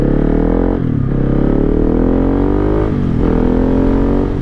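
Husqvarna 701 single-cylinder motorcycle fitted with a Remus exhaust, ridden with a loud, steady engine drone that rises in pitch through two gear pulls, each with a brief dip between shifts.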